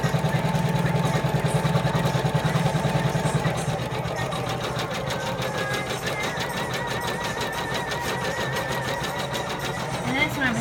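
A Janome embroidery machine stitches a design into superfine cotton batiste, its steady rapid needle clatter running continuously with a mechanical hum, while a person talks over it.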